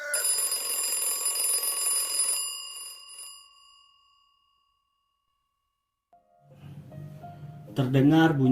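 Loud, shrill metallic ringing of an alarm clock bell in an audiobook drama, sustained for about three seconds before fading to silence, followed by a low tone and a voice starting to speak.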